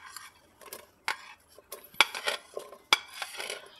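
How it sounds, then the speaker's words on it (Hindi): Chopped medium onion is tipped into an oiled pressure cooker for Punjabi-style rajma, making several sharp metallic clinks and scrapes of a spoon against the pot with quiet rustling between them, close and fairly soft. "अभी हम इसमें शामिल करेंगे मीडियम साइज़ का एक प्याज चॉप किया हुआ।"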